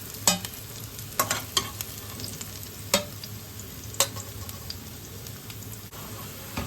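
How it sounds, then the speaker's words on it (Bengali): Onions frying in a pan for a chicken korma, a steady low sizzle broken by several sharp scraping stirs at irregular intervals, moderately quiet with no voices. "এদিকে পেঁয়াজটা আমাদের খুব ভালো করে ভাজা হয়ে গেছে।"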